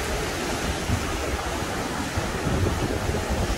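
Ocean waves wash against the shore at Isla Mujeres in a steady, close, full rush of surf with no voices over it.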